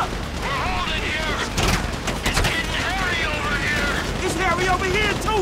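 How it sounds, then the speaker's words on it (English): Dense gunfire in the video game Grand Theft Auto V, rapid overlapping shots and bursts under continuous excited talking and game noise, loud throughout. "So I guess we're shooting our way out of here!"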